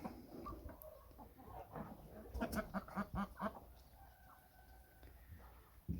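Turkeys cluck softly while pecking at soaked bread, a run of short clucks and low calls rising in the middle, with faint rustling farmyard ambience and no talk.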